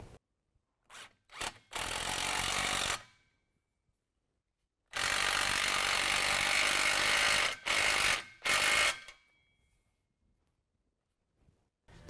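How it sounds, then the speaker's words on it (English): A 16 mm wrench tightens the bolts on an aFe Large Bore-HD exhaust tip, heard as loud bursts of rapid ratcheting clicks, a few short strokes, then longer runs, separated by silent pauses. "then we can go ahead and tighten that down with a 16 millimeter as well"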